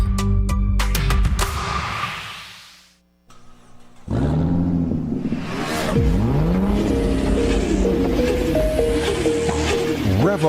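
A car engine revs hard, loud and close, with rising and falling whines, a brief drop to near quiet, then renewed roaring acceleration over music-like tones.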